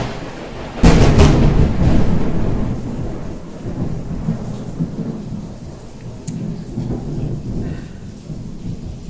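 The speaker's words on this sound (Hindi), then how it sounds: "कमाल की बारिश हो रही है बाहर, बहुत ही कमाल की बारिश हो रही है।" Heavy rain pours steadily outside, opened by a loud thunderclap that rumbles on and fades into a dense, continuous hiss of falling water.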